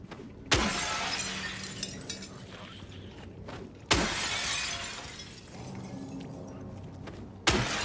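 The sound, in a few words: breakable objects being smashed in Silent Hill 2 Remake, a video game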